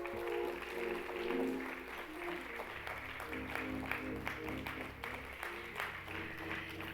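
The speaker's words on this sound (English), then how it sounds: "Can we please give another round of applause?" An audience at the Atwood Day assembly at Kentucky State University keeps up steady, moderate applause, a dense patter of clapping heard from a distance, with a faint murmur of voices underneath.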